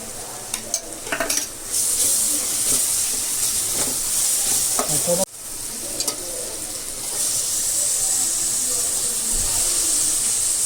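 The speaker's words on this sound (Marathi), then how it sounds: "इथे गोल्डन ब्राऊन होईपर्यंत कांदा इथे परतवला जाणार आहे" Onion sautéing in a pan for butter pav bhaji hisses steadily, broken by scraping spatula strokes and stirring clicks. The sizzle runs up close throughout.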